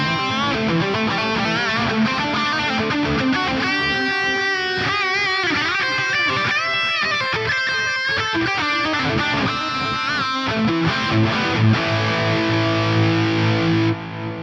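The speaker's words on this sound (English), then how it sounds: "Let's hear that with some distortion all over it." An electric guitar played with heavy distortion through a Rocktron Intellifex effects unit, sustained chords and bending lead notes ringing loud and full for the whole stretch.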